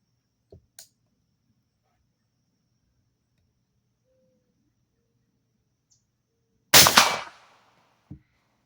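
A 10mm Bear Creek pistol fires a single sharp, loud shot outdoors, and the crack rings out and fades. Faint clicks from handling the gun come before and after the shot in an otherwise quiet setting.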